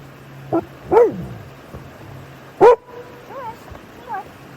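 A dog gives several short barks and yips at separate moments, sharp and fairly close, against a quiet outdoor backdrop, with a few softer whiny calls in between.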